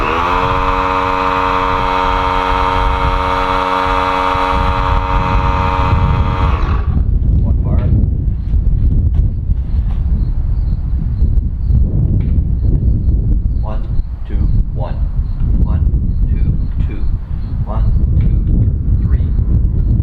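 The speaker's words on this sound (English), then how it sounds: "Air compressor." An air compressor runs beside a Searey seaplane with a loud, steady droning whine for about seven seconds, then cuts off. Scattered clatter, rustling and voices talking follow.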